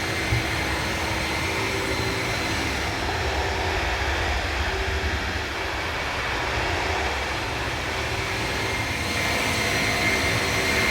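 Jet engines of an iniBuilds A300-600R(F) cargo airliner in a flight simulator, heard from outside the aircraft: a steady, broad turbine roar with a faint high whine, continuous and even throughout, no voices.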